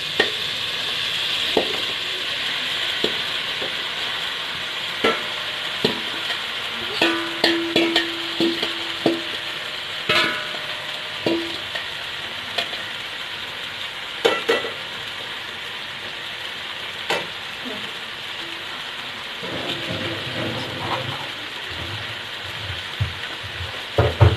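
Okra sizzling in hot ghee in a pan, with a steady frying hiss and repeated clinks and scrapes of a spoon stirring it, close and alone.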